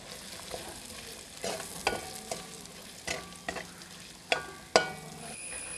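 Chopped shallots and ginger-garlic paste sauté in rice bran oil under a low, quiet sizzle, with repeated sharp scrapes and clinks from a spoon stirring the pan.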